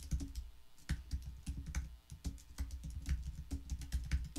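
Steady typing on a computer keyboard while entering a ChatGPT prompt, a close run of quick, irregular key clicks with no talk.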